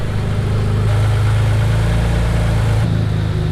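A freshly rebuilt twin-turbo 6G72TT V6 in a Mitsubishi 3000GT VR4 idles at around 1,000 RPM, a loud, steady, close-up drone with a slight shift in pitch near the end.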